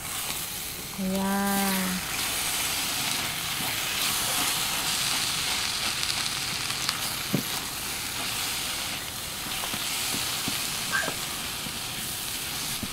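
Eggs cooking under a lid in a Dreepor multi-function cooker on high heat give off a steady, close hiss and sizzle throughout, with a brief tonal beep near the start and a short spoken word.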